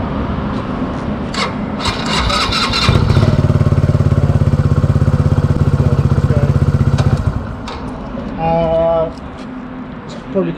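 A new motorbike's engine runs steadily for several seconds with a loud buzzing drone, then cuts out, with people talking throughout.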